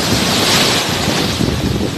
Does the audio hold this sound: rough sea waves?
yes